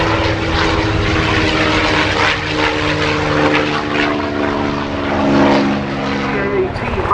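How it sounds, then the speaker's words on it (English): A North American P-51D Mustang warbird roars loudly along the runway at the Duxford Battle of Britain Airshow, its propeller engine a dense, sustained growl that swells slightly midway before easing. "North American P-51D Mustang, named Moonbeam Fly."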